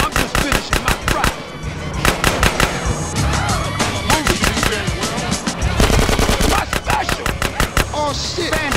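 Dense rapid gunfire from a drive-thru shootout cutscene in GTA: San Andreas, bursts of machine-gun and pistol shots crackling almost continuously, loud and close, with brief voices in between.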